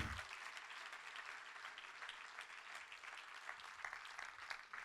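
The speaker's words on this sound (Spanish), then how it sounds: "Dale un aplauso al Señor porque Dios está con nosotros" A church congregation applauds during a Spanish-language sermon, steady dense clapping from many hands filling the room at an even level throughout, with no voices over it.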